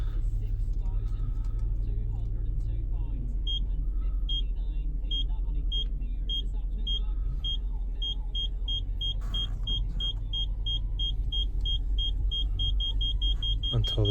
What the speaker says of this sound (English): Until the beep gets continuous,